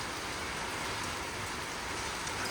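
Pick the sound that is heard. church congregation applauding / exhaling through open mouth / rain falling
rain falling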